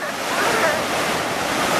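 Ocean surf washes steadily onto the beach at Wildwood on a hazy day, a loud, continuous roar of waves mixed with wind, with no voices.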